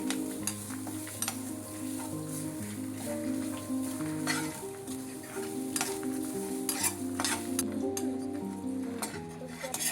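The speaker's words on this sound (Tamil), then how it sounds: "சேர்த்து அதுவுமே நல்லா பொன்னிறம் வர வரைக்கும் வதக்கிக்கணும்." Grated coconut and spices sautéing in a pan for brinjal rice, a steady close sizzle with a spatula stirring and scraping in irregular strokes and occasional metallic clinks, continuing throughout.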